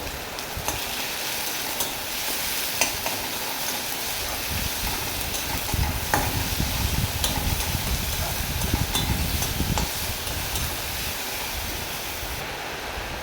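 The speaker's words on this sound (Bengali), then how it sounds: "একটু ভালো করে নেড়ে চেড়ে নেব" Onion and tomato sizzle and get stirred in a pan of hot oil as the base for a spicy bata fish curry, a steady close hiss with soft scraping throughout and no talking.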